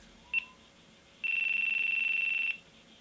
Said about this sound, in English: GoPro, are you beeping? GoPro, stop beeping.